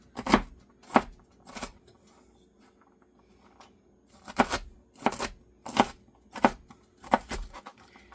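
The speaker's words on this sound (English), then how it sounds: "We just want to chop this celery up to a good size." Knife chopping celery on a cutting board for cornbread stuffing: clusters of sharp, close thuds in several quick bursts with short pauses between, no talking.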